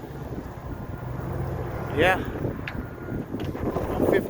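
Strong blizzard wind gusts of 35 to 40 mph buffet the microphone during a major New England snowstorm, a continuous rough roar that swells and dips, with a person briefly talking and exclaiming over it.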